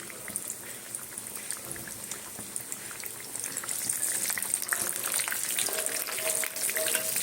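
Steady, gentle sizzling of a Mughlai paratha frying in oil, with soft crackles and occasional utensil sounds, growing slightly louder midway.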